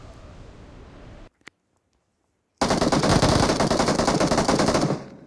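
Rapid, dense gunfire from a shotgun in the mobile game PUBG Mobile, a loud sustained burst of shots after a short silence and a single click, following a stretch of steady background noise.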